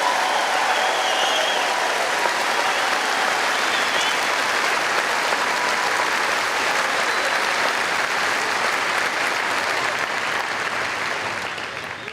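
Sustained applause from a large audience at a university commencement ceremony, a broad even roar of clapping that holds steady for many seconds before starting to thin at the very end.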